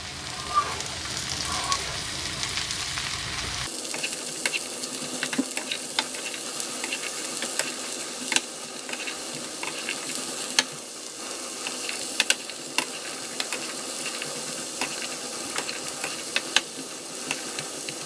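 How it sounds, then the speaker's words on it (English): Vegetables for a skillet ratatouille sizzle in a hot skillet with a continuous crackling hiss. Frequent clicks and scrapes of a utensil stirring them stand out close and clear throughout. "So the first thing is I stir them up so we get them all nice and mixed together."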